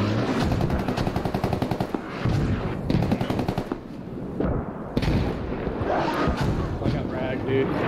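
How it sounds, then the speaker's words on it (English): A frag grenade blast and rapid gunfire in the video game Squad, loud and dense throughout, with bursts of automatic fire and explosions layered over a constant roar, and some voice mixed in. "Frag grenade going in."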